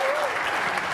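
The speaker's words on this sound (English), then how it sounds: "Give him a big round of applause." Applause from a conference audience at a tech event, a dense wash of clapping filling the whole moment at steady loudness, with a voice briefly audible over it.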